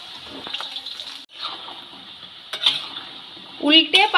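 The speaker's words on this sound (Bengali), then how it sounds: "তেল খুব ভালোভাবে গরম হয়ে গেছে, এবার ব্যাটারে চোবানো সয়াবিনগুলো ভেজে নেব।" Battered soybean chunks frying in hot oil give a steady close sizzle and bubbling hiss, with a few brief clinks and scrapes of a utensil in the pan toward the end.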